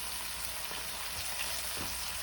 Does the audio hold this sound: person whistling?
no